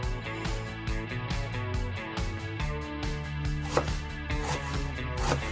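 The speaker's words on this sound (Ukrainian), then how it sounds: "Плавлений сир натираю на тертушці." Quick, rhythmic rasping strokes of processed cheese being grated on a grater, repeating steadily over background music.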